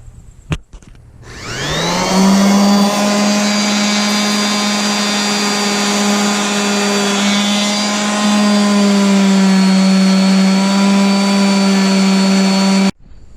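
A loud, steady power sander whine on a painted school bus edge starts after a brief knock and runs without pause for about eleven seconds, close and constant, then cuts off abruptly.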